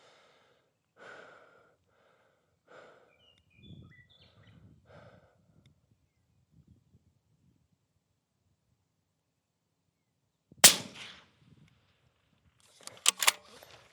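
A rifle fires from a rest with a rear bag after a stretch of soft, slow breathing. One loud, sharp close shot cracks out, followed a few seconds later by another burst of sharp cracks.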